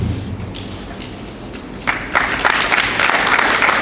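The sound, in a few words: audience applause for a speaker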